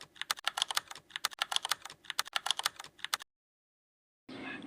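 Rapid keyboard typing in dense, rhythmic bursts of crisp clicks, close and clear, stops abruptly, followed by a short silence and then a different muffled sound.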